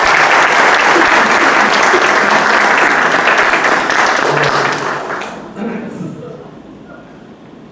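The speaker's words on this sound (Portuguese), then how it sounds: "Uma salva de palmas." Lecture audience applauding loudly and steadily for about five seconds, then the clapping thins out and fades, with a few voices murmuring as it dies down.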